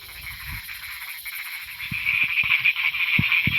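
A chorus of frogs croaks during rain at night in rural Thailand, a continuous droning trill with several short, loud, close croaks standing out near the end, and no one speaking.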